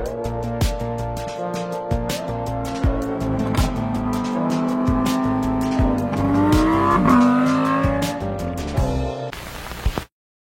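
A sports car engine is pushed hard, revving and climbing through gears with rising and falling pitch and brief tire squeal, loud and close throughout before cutting off abruptly at the end.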